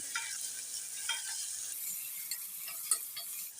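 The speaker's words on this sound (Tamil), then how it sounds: "இப்போ நம்ம தக்காளியும் சேர்த்து நல்லா வதக்கி எடுத்துக்கலாங்க" Tomatoes sautéing in a pan for sambar rice, a steady soft sizzle with scraping spatula strokes scattered throughout, close and alone with no talk.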